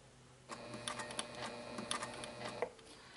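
A sewing machine fitted with a 90/14 topstitching needle slowly stitches an appliqué wristlet clutch, sounding as a steady mechanical whir with rapid needle ticks and a few sharper clicks, close and quiet with no talking.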